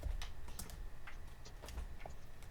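A cat walks across a computer keyboard, its paws setting off a quick, irregular patter of key clicks that stays soft and close throughout.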